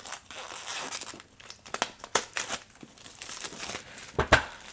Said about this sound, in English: Go ahead and take this plastic off.